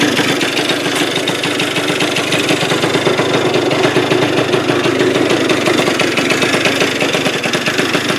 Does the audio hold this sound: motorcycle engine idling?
yes